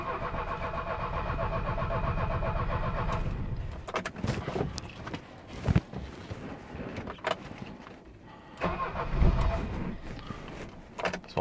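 A Mercedes W115 that stood for three months cranks in a garage, with a steady whir of the starter followed by uneven sputtering bursts as the engine struggles to catch.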